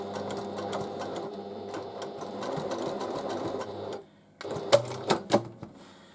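Sewing machine stitching a fabric bow onto a tote bag runs in a steady rapid chatter for about four seconds, stops briefly, then restarts with a few short bursts, close and moderately loud.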